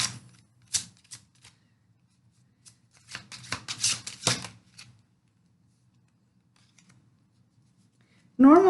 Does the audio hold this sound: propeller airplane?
no